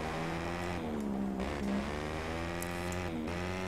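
A MotoGP 15 racing motorcycle engine drones steadily at high revs, a whining tone that rises and falls as the throttle and gears change. It runs continuously at moderate loudness with no voices over it.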